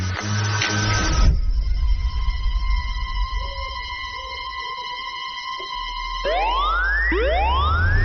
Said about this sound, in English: or strobes and sirens for deterrence while notifying you